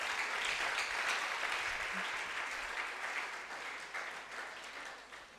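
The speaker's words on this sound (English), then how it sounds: "Please give all of them a round of applause." Sustained applause from a school audience for secondary school debate competitors, a dense even roar of many hands that gradually fades toward the end.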